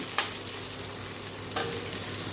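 Onions sautéing in a pan with a continuous close sizzle and two short scraping stirs, moderately quiet and with no voices.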